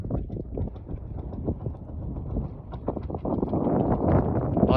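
Strong wind buffeting the microphone outdoors near Bluff, Utah, a continuous low roar with gusty thumps that build louder toward the end, with no voices.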